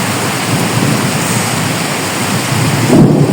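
Heavy rain pours down outside a room beside a small pond, a loud, dense hiss with a deep rumble of thunder swelling near the end.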